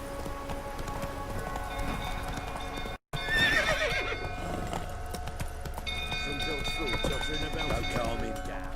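Roach the horse in Witcher 3 gallops with rapid clip-clop hoofbeats and lets out a neigh, with rain-like ambience beneath, a brief dropout near the start, and game voices talking over the action.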